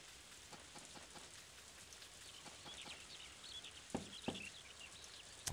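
Steady, soft rain patters in the Harvest Moon farming game, a faint continuous hiss with a few sharper drip-like taps near the end and some high chirping bird-like notes mixed in.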